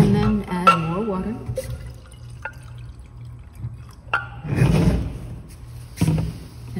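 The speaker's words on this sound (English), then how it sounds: "And then add more water." Water is poured into a container of fermenting tomato seeds, with splashing and trickling bursts and a few drips. The sound comes in short separate bursts close by, and someone speaks briefly at the start.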